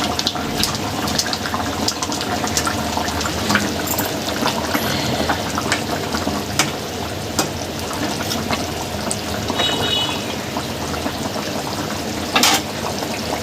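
Rohu fish curry with potatoes bubbles and sizzles in a pan as garam masala goes in, a steady close simmer with occasional clinks, no talking.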